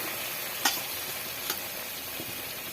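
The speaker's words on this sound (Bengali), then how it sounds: "যতক্ষণ না তেল ছাড়বে ততক্ষণ কষতে হবে। তোমরা দেখতেই পাচ্ছ বন্ধুরা, মশলা থেকে তেল মোটামুটি ছাড়তে শুরু করেছে।" Spice paste sizzles in oil in a pan while being cooked down for Boyal fish curry, a quiet steady crackle broken by two sharp scraping stirs.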